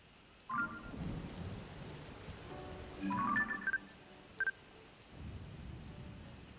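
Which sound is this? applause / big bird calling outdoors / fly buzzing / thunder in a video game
thunder in a video game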